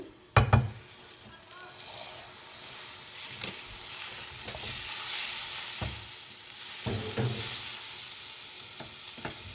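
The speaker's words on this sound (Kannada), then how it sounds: "ಟೋಸ್ಟ್ನ ಶಾಲೋ ಫ್ರೈ ಮಾಡೋಣ. ಈಗ ಬಟರ್ ಆ್ಯಡ್ ಮಾಡ್ತಾ ಇದ್ದೀನಿ." Bread toast shallow frying in butter in a pan for a cheese toast, a continuous sizzle broken by several sharp utensil knocks and scrapes, no talk.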